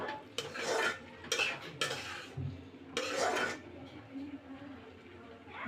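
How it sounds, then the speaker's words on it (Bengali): Fried bottle gourd peel stirred in a pan with a spatula, a few scraping, clattering strokes against the pan between spells of quiet talk. "এবার ভালোভাবে নেড়ে চেড়ে দেব"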